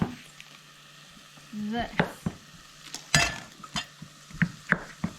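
Curry powder and butter fry in a pan, a soft sizzle broken by clinks and scrapes of a utensil against the pan, with a brief spoken word.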